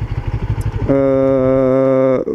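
A CF Moto 650NK motorcycle under way, its engine settling into a steady, strongly harmonic drone after a brief rougher stretch, loud and close, with no talk.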